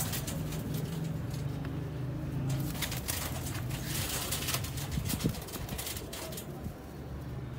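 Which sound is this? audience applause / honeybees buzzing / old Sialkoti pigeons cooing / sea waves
old Sialkoti pigeons cooing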